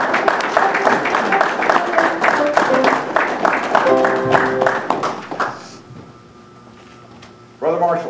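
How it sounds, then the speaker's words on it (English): Brethren at a Masonic lodge installation give a round of applause, with dense clapping under loud voices for several seconds before it fades to quiet and a voice resumes. "give a hearty salute to your worshipful master by a round of applause"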